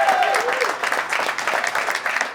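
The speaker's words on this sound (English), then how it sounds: "Give yourselves a big round of applause." Audience applause at the Rambling House music show in Chicago, a dense steady patter of many hands clapping close by that holds for a couple of seconds.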